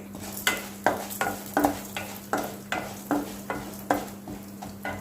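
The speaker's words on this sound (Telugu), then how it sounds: "ఇందులో రెండు టేబుల్ స్పూన్ల మినపగుండ్లు వేసుకోవాలి" Urad dal fries in a tablespoon of hot oil in a kadai, with a steady sizzle broken by regular scraping stirs about every half second, close and alone without speech.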